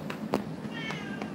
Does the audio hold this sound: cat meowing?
yes